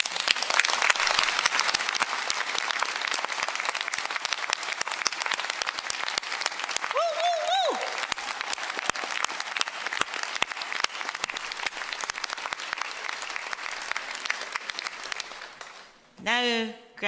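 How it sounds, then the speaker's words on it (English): Graduates at a university winter ceremony receive a long, dense round of applause from family and friends in a large hall, tapering off near the end as a voice briefly speaks. "We'll give you a round of applause now."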